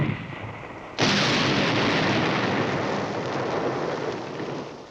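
A single artillery gun fires with a sudden loud boom that rolls on like thunder, a broad rumbling roar that slowly fades over several seconds.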